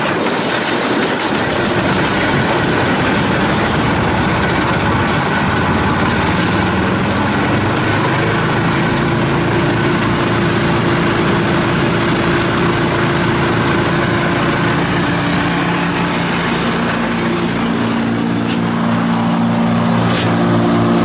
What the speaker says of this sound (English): let me go ahead and start this chipper. We're going to run some material through it